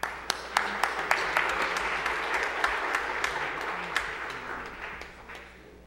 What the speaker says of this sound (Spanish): Por favor, recibamos a Arquímedes con un aplauso, por favor.